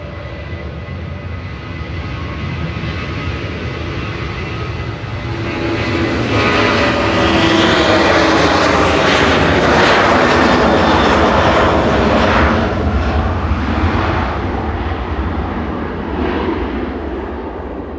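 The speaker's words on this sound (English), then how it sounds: "Departing now on 23 left is Sun Express to Antalya with flight 593." A Sun Express airliner bound for Antalya departs runway 23 left at Manchester Airport. Its jet engines roar loudly as it accelerates, the rumble building and swelling before fading gradually as the aircraft climbs away.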